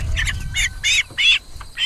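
Cornish cross chickens squawk in a brooder, a close run of loud, repeated harsh calls in quick succession.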